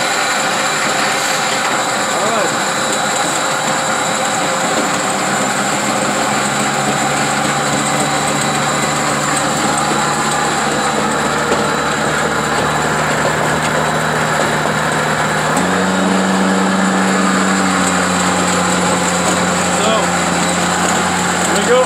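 Electric snowblower running outdoors in extreme cold of -25°C, a steady motor hum with a high-pitched whine that shifts pitch partway through, heard close and continuous.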